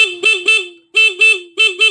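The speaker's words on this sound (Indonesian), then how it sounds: "Kita tes klaksonnya." A Honda Mio motorcycle horn, tested on a scooter that has lost its ignition spark, blares in three pairs of short, loud, close honks separated by brief pauses, with no other sound.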